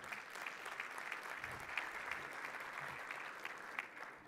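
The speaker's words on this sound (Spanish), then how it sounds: "Un aplauso" Applause from a conference audience at a railway and multimodal policy forum, a steady even wash of clapping heard from a distance, fairly soft and continuous, with no voices over it.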